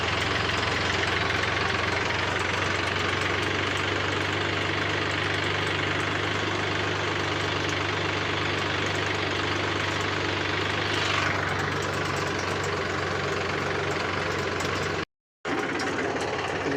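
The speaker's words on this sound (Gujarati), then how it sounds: "ક્રિશા અત્યારે ટ્રેક્ટર આગે જવો" A tractor engine idles on a farm, a steady close mechanical hum with rhythmic knocking that runs unbroken, apart from a brief dropout near the end, with no talking.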